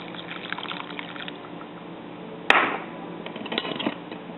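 About a cup of water poured into a mixture of ground coconut and coconut milk for deep-fried banana batter, a short splashing pour that starts suddenly midway and trickles off, close and fairly loud.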